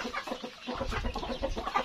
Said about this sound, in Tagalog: May mga sisiw na mga friends.